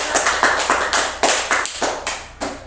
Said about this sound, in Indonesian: Bagus sekali, tepuk tangan lagi untuk pelapornya.